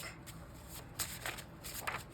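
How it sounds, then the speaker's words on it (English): Tarot cards are shuffled by hand in a quiet room, soft papery riffles and slides coming in a few short bursts, close and faint. "typically when I shuffle, I just take one card that comes out"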